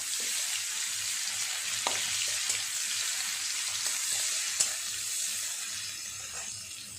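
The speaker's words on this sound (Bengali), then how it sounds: "পেঁয়াজটা একটু ভালো করে ভাজা করে নিয়ে মাংসটা দিয়ে দেব।" Onions sizzle steadily in a hot pan, a continuous bright crackle with occasional clinks of a utensil stirring.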